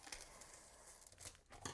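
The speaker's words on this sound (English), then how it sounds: "I'm trying to cut open the plastic." Plastic packaging is cut open, giving faint, close crinkling and tearing rustles in short irregular bursts.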